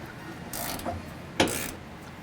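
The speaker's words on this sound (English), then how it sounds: "Grab a 13mm socket with a short extension, stick it up in there," A 13mm socket on a ratchet with a short extension works the factory bump stop bolt loose on a 2015-2019 Ford F-150, giving two short mechanical clicking bursts close by, with no talking.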